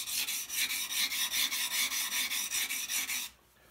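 A carving tool is rubbed back and forth on fine-grit sandpaper, about fifteen rhythmic rasping strokes in steady succession, close and loud, ending abruptly in near silence with no talk.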